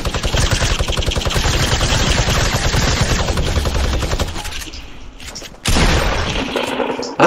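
Suppressed machine gun in Fortnite fires in long, rapid bursts, close and loud, pausing briefly near the end before another burst resumes.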